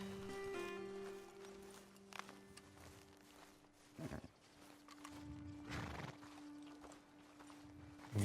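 Horses move about faintly under a low ambient drone in Red Dead Redemption 2, with soft hoof clops and occasional snorts or whinnies in quiet, distant bursts.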